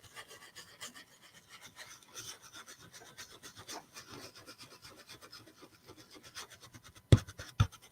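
A brush working paint over a stencil on a cow-themed door tag, producing continuous soft scratchy rubbing strokes in a swirling rhythm, close and quiet, with a couple of sharper knocks near the end.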